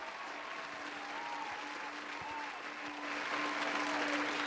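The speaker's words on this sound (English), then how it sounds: "The crowd is going wild." A studio audience applauds to welcome actor and comedian Corey Martin Craig onto a show, a sustained wash of clapping and crowd cheer that swells slightly toward the end, with a faint steady tone underneath.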